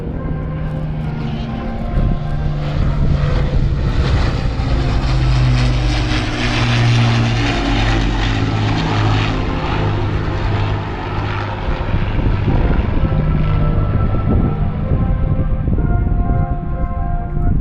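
A WWII aircraft built at the Vickers Armstrong Broughton factory and completed in May 1945 flies past at the Southport airshow, its propeller engine droning loud and steady, swelling as it passes overhead and then slowly fading away.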